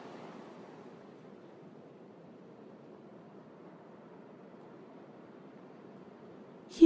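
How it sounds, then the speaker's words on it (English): Soft ocean waves wash onto a shore in a gentle, continuous hush, faint and even, ending in a short sharp click. "You let the sound of the waves cleanse your mind as it washes away your thoughts"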